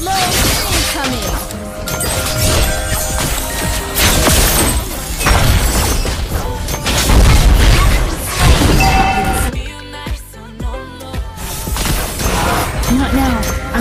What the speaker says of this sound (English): Explosion incoming.